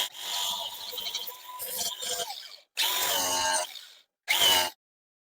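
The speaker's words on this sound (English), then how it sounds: "So once again, I'm just going to grind this flat." Power tool grinding cured resin flat on a cracked plastic bumper of a salvage Aston Martin DB7 V12, running in three loud bursts, a long one then two shorter ones, separated by silence.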